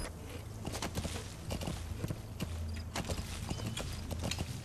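A horse's hooves clip-clop in Metal Gear Solid V, a close, rhythmic run of sharp hoofbeats that keeps a steady gait from start to finish.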